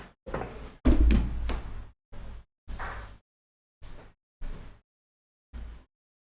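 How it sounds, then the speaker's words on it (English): An indoor door is moved and shut in a series of separate knocks, scrapes and a louder thud. Shorter clunks follow at irregular intervals with silent gaps between them, and no one speaks. "Give me a sec while I close the door."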